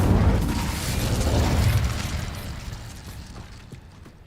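Incendio fire spell from the video game Hogwarts Legacy, heard as a loud whooshing roar of flame that bursts at the start and slowly fades, alone without talk.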